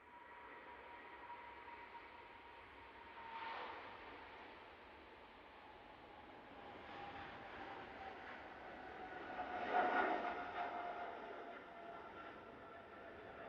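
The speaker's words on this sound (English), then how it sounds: "Etihad 777-300ER now on the roll." An Etihad Boeing 777-300ER jet takes off at Manchester Airport, heard as a distant, steady engine roar that swells gradually, with faint surges.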